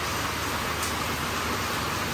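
Steady rain falls outdoors, heard as dense, even hiss with no clear individual drops and no talking.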